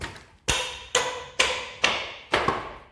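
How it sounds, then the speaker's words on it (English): A sledgehammer strikes the back of a hammer handle while nails are being knocked out of a wooden pallet. Five evenly spaced, sharp metallic whacks ring close and loud, each decaying briefly, with no talking. "hit the back of the handle with the sledgehammer"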